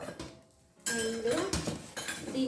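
An iron kadai, a small tempering pan, clinks and clanks against other unpacked metal kitchenware, with a few sharp ringing knocks after a quiet start.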